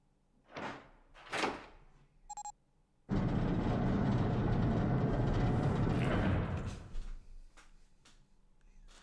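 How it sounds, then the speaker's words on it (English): In the Zero Escape: Nine Hours, Nine Persons, Nine Doors game, a door opens. A few short knocks and a small chime come first, then a loud, sustained heavy grinding slide that lasts about three seconds and fades out. "The door opened."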